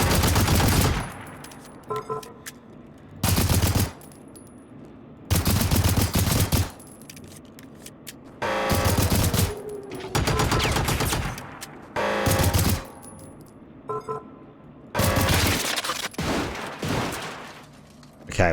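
Automated turret guns in the game Generation Zero firing long, loud machine-gun bursts, about seven separate volleys broken by short quiet gaps.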